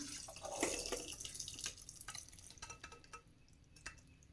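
Cooked barley rice is strained, its cooking water pouring off in a splashy rush that thins into scattered drips and light clinks, close and fairly quiet.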